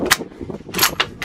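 A .350 Legend rifle fires on an outdoor long-range course, producing sharp, loud cracks with quick repeated bursts and echoes within about a second, with no speech.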